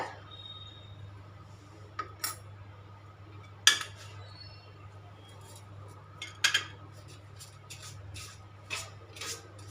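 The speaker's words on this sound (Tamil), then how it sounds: "இது எல்லாத்தையும் போட்டு நல்லா நம்ம மிக்ஸ் பண்ணிக்கலாம்" A spoon clinks and scrapes against a bowl while wheat flour, white sesame and cardamom powder are stirred together, giving faint, scattered taps over a low steady hum.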